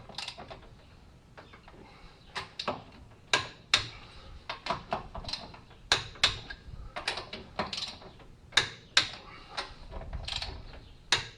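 Car lug nuts being tightened to 74 foot-pounds with a ratcheting wrench during maintenance on a Maverick Trail, producing a series of sharp clicking ratchet strokes in irregular bursts, close and alone.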